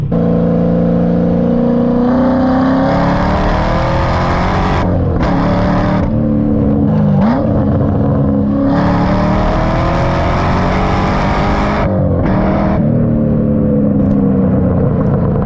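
A Chevrolet Corvette accelerates hard, its engine note climbing loud and close through repeated gear pulls, with brief dips at each shift and a sustained roaring drone throughout.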